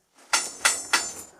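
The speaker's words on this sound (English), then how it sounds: "at this moment we know it's braked because the sound of the wheel is dull" A hammer strikes a braked railway wagon wheel three times at an even pace, each tap a sharp, fairly close hit with a short ringing decay.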